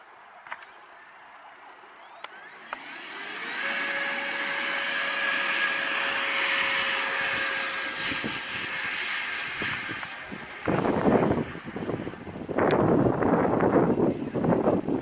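A Freewing F-86 Sabre model jet spools up with a rising electric ducted-fan whine that holds steady and loud for several seconds, then gives way to rushing, gusty air noise as it takes off.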